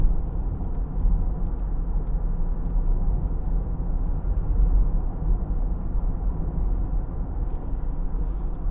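Low steady road rumble inside the quiet cabin of a 2017 Ford Mondeo 2.0 TDCi diesel on the move, faint muffled engine and light tyre noise with no talk.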